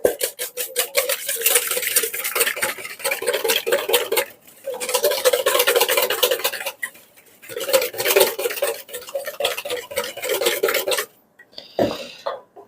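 Eggs whisked in a bowl for an omelette, a fast rhythmic scraping and clinking of metal against the dish, loud and close, broken by short pauses, with no talking.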